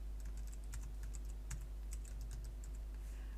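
A date of birth is typed into a patient search field on a computer keyboard, a quick, close run of light key clicks in short bursts over a steady low electrical hum.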